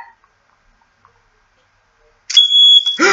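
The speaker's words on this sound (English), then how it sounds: "Oh my gosh, he's had a smoke alarm!" A smoke alarm sounds abruptly after near silence, emitting a loud, steady high electronic beep that holds for under a second before fading into noise.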